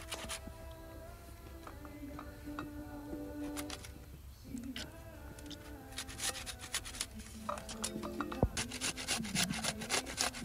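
Firm winter tomato rubbed against a hand grater outdoors during open-air cooking, a quiet steady rasping scrape with irregular strokes, faint bird calls and background noise throughout.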